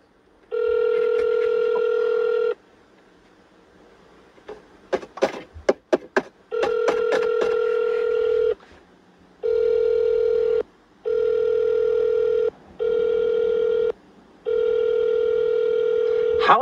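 A telephone ringback tone plays in repeated long buzzing pulses separated by short silences, close and clear through the handset, with a short burst of keypad tapping partway through.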